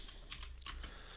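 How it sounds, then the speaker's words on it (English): A git command is typed on a computer keyboard, a short run of soft, quick key taps close by with a faint background hum. "I'm just going to type it in here"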